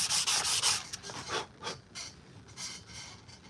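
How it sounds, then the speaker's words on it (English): Sanding on a Kal Skirata armor prop: repeated rasping strokes, loud and close at first, then softer intermittent rubbing passes with short pauses between them. "You will do sanding in whatever you do."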